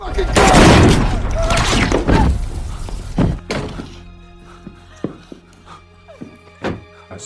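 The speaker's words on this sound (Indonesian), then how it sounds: "Ilir dan Joko pun saling adu tembak, yang menyebabkan keduanya tewas" Gunfire crackles through a shootout scene in an action sniper film, a dense burst of shots and heavy thuds at first, then scattered sharp reports and impacts fading out, with voices mixed in.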